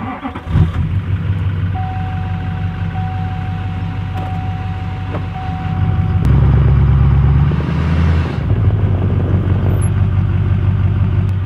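A van with snow chains fitted creeps forward a wheel turn, engine rumbling steadily and swelling louder partway through, with a faint steady tone early on.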